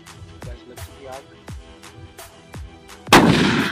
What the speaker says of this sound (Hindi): काफी धमाकेदार था यहां पे विक्टोरिया का ग्रीन सूतली